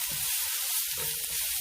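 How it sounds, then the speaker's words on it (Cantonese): Fermented black beans and ginger hitting hot oil in a wok over medium heat, a continuous bright sizzle with faint low stirring sounds beneath. "我哋爆一爆啲豆豉同埋薑先"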